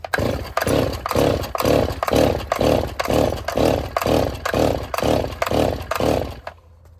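Stihl 024AV chainsaw with a spring-loaded choke, being pull-started: a loud run of about a dozen rhythmic sputtering bursts, roughly two per second, close by, cutting off abruptly at the end.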